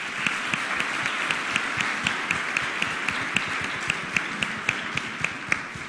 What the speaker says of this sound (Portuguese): Eu queria dar uma salva de palmas para essas pessoas.